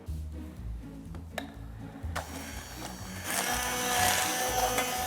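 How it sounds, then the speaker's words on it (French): Blender whirring as it purées cooked asparagus for an asparagus panna cotta, a steady motor drone that grows louder and harsher partway through, with brief knocks near the start. "Voilà, donc maintenant on va les mixer."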